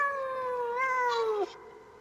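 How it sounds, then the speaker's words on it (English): A single long, drawn-out meow from a cat, close and clear, sliding slightly downward in pitch before cutting off abruptly, followed by quiet room noise. "That's still a cool sounding cat."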